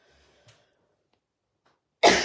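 After near silence, one sudden, loud cough erupts close by.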